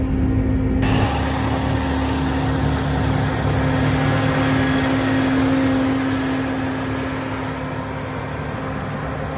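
A tractor engine drones steadily nearby during a clover harvest, a continuous low rumble with a steady hum that holds level throughout, no voices.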